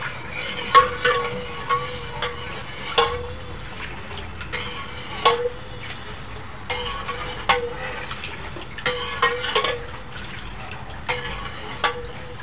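A spoon stirs kokum and coconut milk solkadhi with salt and water added, giving soft liquid swirls broken by light clinks against the vessel at irregular intervals, close and fairly quiet, with no talking.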